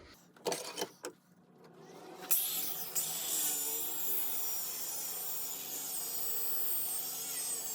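Wooden piece being sanded by hand, a few scattered knocks and handling noises at first, then a steady, close, hissing rub that continues to the end.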